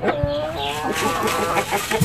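Live chickens for sale in a Betawi neighborhood cluck in a quick, uneven string of close, fairly loud calls, with no talk over them.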